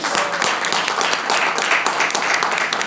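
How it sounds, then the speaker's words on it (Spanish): A church congregation breaks into steady applause, dense and sustained claps filling the room throughout, with faint voices mixed in. "Denle un aplauso al Señor, hermanos."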